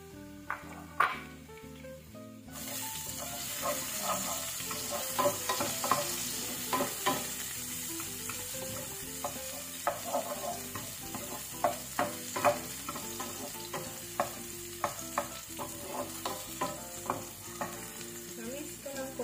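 Onions and garlic sautéing in hot corned beef oil in a pan for a Filipino corned beef with potato and peas dish, a steady close sizzle broken by repeated clinks and scrapes of stirring.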